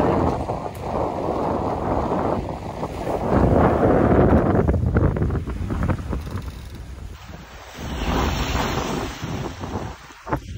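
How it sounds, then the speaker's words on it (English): Strong wind buffets the microphone in loud gusts over rushing water, rising and falling as the boat moves under sail. "we're having a lot of wind and a beautiful sail today"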